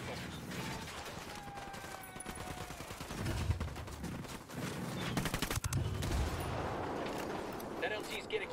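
Sustained bursts of automatic gunfire fill a Ghost Recon Wildlands firefight at a cartel checkpoint, loud and continuous with heavier blasts mixed in and voices speaking underneath.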